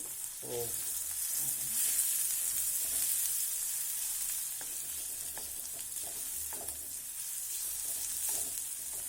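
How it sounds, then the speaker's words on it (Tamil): Tomato and ginger garlic paste fry in a pan while being stirred for a mushroom pepper masala, a continuous close sizzle with scraping stir sounds throughout. "இப்போ தக்காளி போட்டுடுறோம். இஞ்சி பூண்டு பேஸ்ட்டு."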